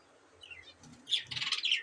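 Pet budgerigars, a breeding pair near a handmade nest box, give soft chirps followed by a brighter cluster of quick tweets, close and fairly quiet, with no voices.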